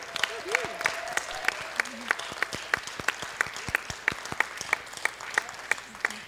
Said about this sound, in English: let's congratulate them with a hearty round of applause.